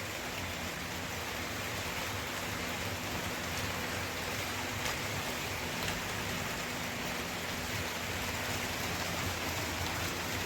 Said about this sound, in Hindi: वैसे बारिश शुरू हो चुकी है।